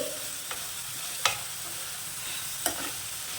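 Potato fry with coriander powder stirred in a pan: a continuous oily sizzle with a few sharp clicks of the spoon scraping the pan, up close and alone.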